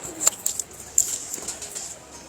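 Pigeons coo softly among a few brief fluttering and pattering sounds, faint and close, with no one talking.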